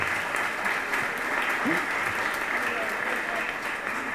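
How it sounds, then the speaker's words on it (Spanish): Steady audience applause at a university academic presentation on thesis supervision, a dense even wash of clapping from a seated crowd, with a faint voice briefly audible underneath. "Un aplauso para Natalia."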